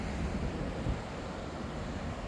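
Sea waves at a seaside overnight spot, a steady, close, rushing wash of surf mixed with wind noise, with no voices.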